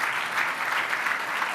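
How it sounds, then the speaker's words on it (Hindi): Brief burst of audience applause at a Vedic religious gathering, many hands clapping densely and evenly at moderate loudness. "एना माटे पण जोरदार तालियों वगाड़ो"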